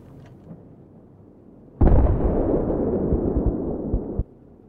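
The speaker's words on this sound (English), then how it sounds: "They're shooting into our main." Battlefield 3 explosion with gunfire on the Gulf of Oman map: a sudden loud blast erupts, followed by a dense, sustained rumble of fire and detonations lasting a couple of seconds, which then cuts off abruptly into near silence.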